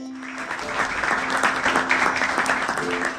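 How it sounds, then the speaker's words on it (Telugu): Children clap together in a short burst of steady, dense applause at a storytelling session, close and fairly loud for about three seconds. "పిల్లలు గట్టిగా ఒకసారి చప్పట్లు కొట్టండి."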